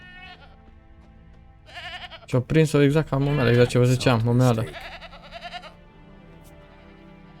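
A goat bleats loudly and close by in The Witcher 3, several wavering cries in quick succession, while someone talks over the in-game ambience before and after.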